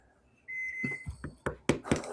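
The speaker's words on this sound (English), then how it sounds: "the second 2 beeps was me pressing the buttons on the microwave to heat my coffee up" Microwave oven buttons pressed to reheat coffee: a high electronic beep followed by a short run of thumps and taps, close and fairly quiet.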